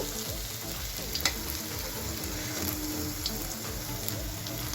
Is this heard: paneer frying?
yes